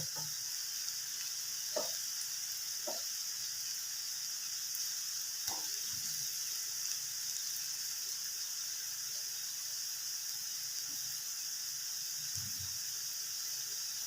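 Potato French fries frying in oil in a small kadai, a steady faint hiss and sizzle with a few soft knocks and scrapes.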